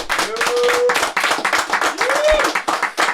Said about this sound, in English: Let's give a round of applause for the one, the only Theo Von.